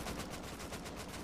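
Rapid automatic gunfire from the video game Rust, a dense continuous burst of loud shots filling the whole stretch with no gaps.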